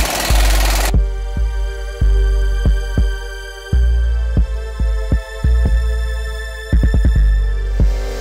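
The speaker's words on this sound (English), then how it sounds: "I got the air compressor on" An air compressor running during a CV axle boot repair on a 2007-2016 GMC Acadia, giving a loud steady low hum punctuated by repeated sharp thumping knocks at an irregular pace.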